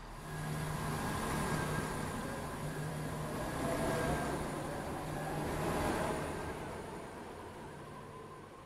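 A four-coach train rolls past at Faymere station in the Roblox game Stepford County Railway. A continuous rumble with a steady hum swells and fades gently over several seconds, with no voices.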